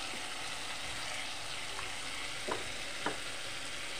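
Spices and turmeric fry in hot oil for a Bengali fish curry with curry leaves, a steady close sizzle broken by a few faint scraping stirs.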